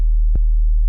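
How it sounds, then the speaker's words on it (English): An 808 bass built from a basic sine wave shape in Serum and pitched down three octaves holds as a steady deep tone throughout, with one brief soft click midway. "You can hear we're getting the form of the 808 already."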